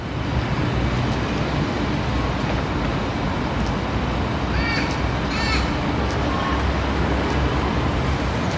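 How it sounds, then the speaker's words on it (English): Crows caw a few times from a park in central Sydney, short distinct calls rising over constant loud city traffic rumble. "As we hear the crows starting to crow off."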